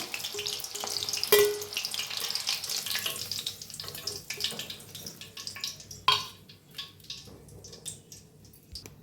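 Long-slit green chilies frying in hot oil for a bread pakora snack, a soft crackling sizzle broken by louder clinks and splashes as the chilies are lifted out, with a brief spoken voice.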